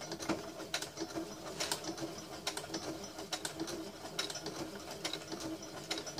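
A sewing machine slowly stitching a leather wallet, giving a steady, even run of quick mechanical needle taps close up at low volume.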